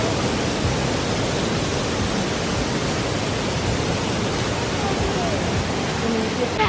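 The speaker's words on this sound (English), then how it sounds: "Say bye to the waterfall." A steady, loud roar of a waterfall, close by and continuous, with no breaks or change in intensity.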